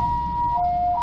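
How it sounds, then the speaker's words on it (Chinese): An ambulance siren wails nearby at a street accident scene where a roadside tree fell, its steady electronic tone shifting pitch within about a second, loud over low traffic rumble. "救护车到场"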